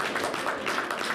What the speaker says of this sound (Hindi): जोरदार तालियां प्लीज बजाते रहे।